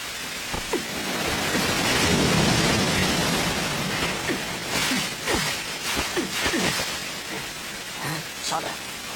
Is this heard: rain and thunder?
yes